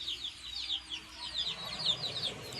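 Chicks peep in rapid, high, repeated chirps while chickens cluck softly nearby, a steady and fairly faint flurry of calls over a low background hum.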